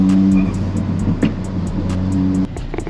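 Inside a Fiesta ST with Stage 2 full bolt-ons and an upgraded intercooler, a steady engine drone runs under a string of sharp, repeated exhaust pops while driving.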